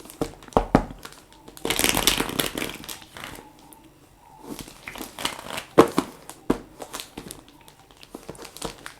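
Tarot cards are shuffled by hand in papery bursts of riffling and crinkling, with brief pauses between, close up with no voices.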